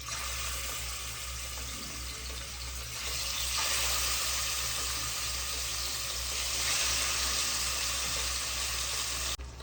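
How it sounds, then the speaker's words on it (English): Chicken frying in vegetable oil in a Dutch oven over medium-high heat, a continuous hissing sizzle that swells and settles as pieces are added, with no talking. "I'm gonna pour about a tablespoon of vegetable oil. And now I'm just gonna start cooking up my chicken in here."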